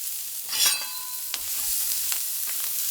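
Red bell pepper hits a hot griddle for cauliflower fried rice, giving a bright, steady sizzle with a louder hiss at the start and a few scraping stirs, close and without talk.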